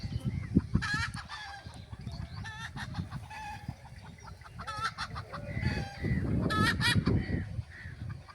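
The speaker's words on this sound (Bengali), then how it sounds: "এই যে মোরগ ডাকতেছে," Several local country roosters crow repeatedly, overlapping, amid clucking fowl and a busy low background of activity near a village bus-stand market on a winter morning in rural Bengal.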